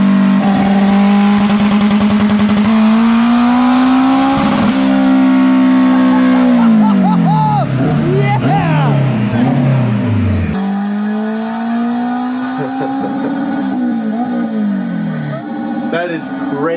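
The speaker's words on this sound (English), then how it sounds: "I see a dyno and a smart car." A Smart car engine revving hard on a dyno, a loud sustained drone that climbs and holds, drops, then builds again, with voices over it.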